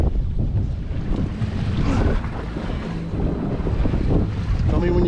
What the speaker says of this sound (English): Oh, this wind.